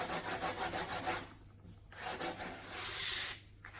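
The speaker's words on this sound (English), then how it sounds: "So I'll just bring that down with a bit of sandpaper." Sandpaper rubs by hand along the edge of a wooden stained glass frame in steady close strokes, with brief pauses between passes and a longer sweep near the end.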